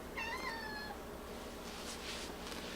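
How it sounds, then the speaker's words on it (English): A house cat lets out a short, clear meow near the start, a couple of rising-falling calls over a quiet room hum, followed by faint rustling and background noise. "I guess the cat wants to be in the video"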